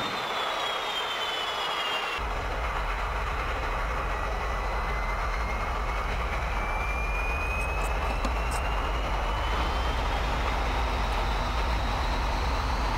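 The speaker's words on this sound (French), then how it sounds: "je vais démarrer les moteurs." A Mirage 2000 fighter jet's engine spools up into a loud, steady roar, with a thin whine rising in pitch as it winds up.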